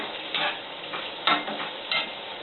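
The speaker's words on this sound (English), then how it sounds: "The veggies just need a quick saute, or however you call it when you stir fry them in the pan." Vegetables sauteed in a pan, a soft steady sizzle broken by three short bursts of stirring scrapes, close and moderately quiet, with no talking.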